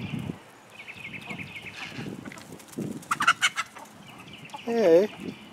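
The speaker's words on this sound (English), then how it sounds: "Chickens." Chickens clucking near a canoe being readied for the water, a few scattered clucks through the clip with a louder burst of squawking near the end, mixed with faint outdoor noise and a brief voice.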